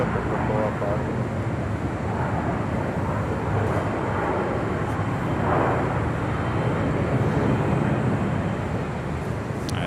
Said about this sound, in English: We do have the big Q cargo 777 about to take off there on the south side.